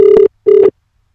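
Two short electronic telephone dial tones, each steady and loud, separated by a brief pause, as a call is placed on a radio station broadcast.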